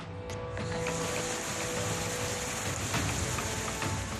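Heavy rain pours down in Malkangiri, Odisha, during flooding, a dense, steady hiss of drops hammering surfaces that carries on without a break.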